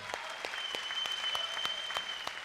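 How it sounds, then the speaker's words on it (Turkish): A studio audience at a Popstar singing competition applauds a contestant named Yusuf, a steady wash of dense clapping that stays loud and even throughout, with no voices on top. "Bu iradesi içinde Yusuf'u bir kez daha alkışlamanızı rica ediyorum sizlerden"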